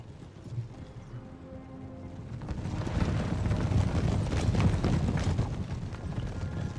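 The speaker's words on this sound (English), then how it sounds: "The 19th Light Horse are charging in." Light cavalry horses charging in the Empire Total War video game, a dense rumble of many hooves building steadily with the clatter of a battle, loud and alone.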